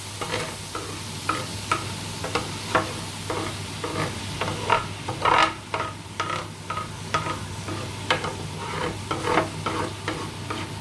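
Food being stirred and mixed in a frying pan with a ladle, rhythmic scraping and clattering strokes roughly every half second over a constant low sizzle, close and moderately loud.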